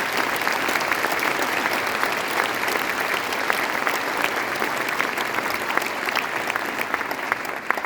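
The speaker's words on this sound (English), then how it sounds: "Would you give them one more round of applause" Sustained audience applause for middle school honor band students at an all-district concert, dense steady clapping from a large crowd filling the hall without pause.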